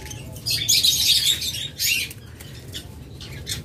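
Caged birds for sale at a bird shop, including yellow collar and yellow fisher pairs, give bursts of high, bright chirping and fluttering wings, close by, with quieter gaps between.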